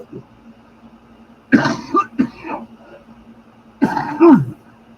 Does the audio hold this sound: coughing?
yes